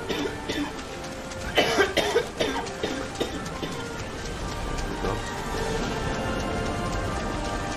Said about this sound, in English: Why every time you cough at the end,